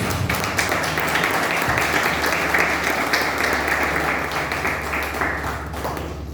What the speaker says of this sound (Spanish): pedimos un aplauso para Miguel Ángel Gómez